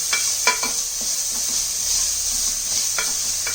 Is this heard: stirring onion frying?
yes